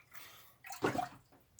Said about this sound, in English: Just easier to pour out of a kettle than out of a giant jug.